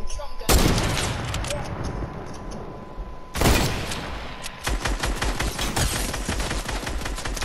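A drum gun firing in Fortnite: loud sustained automatic bursts, with a sharp blast near the start and another mid-way, then a long rapid volley close up.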